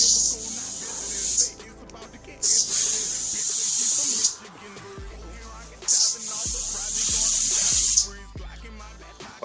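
Bursts of WD-40 aerosol sprayed onto a pair of shoes, three long hissing blasts separated by short pauses, close and loud.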